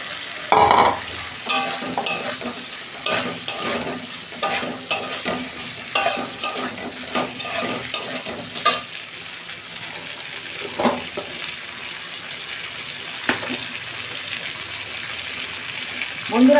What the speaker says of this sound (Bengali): কষানো হয়ে গেছে, আলু আর ফুলকপি দিয়ে দিচ্ছি।